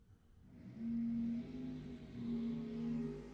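Bracket dragster racing at Lebanon Valley Dragway during ET finals, engines droning and rising in pitch as the cars pull down the strip, heard from a distance with a broad roar.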